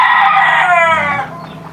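A rooster on a chicken farm crows once, loud and close, the drawn-out call tapering off after about a second, followed by quieter background noise.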